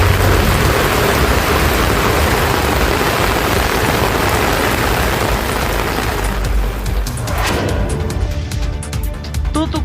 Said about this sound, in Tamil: அரியலூர் மாவட்டத்தில் திடீரென கனமழை பெய்தது.